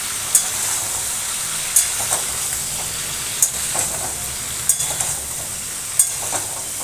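Sliced okra fries in hot oil in a pan over a medium gas flame for a Bengali bhindi posto, giving a steady sizzle, while a spatula scrapes and knocks against the pan about every second and a half.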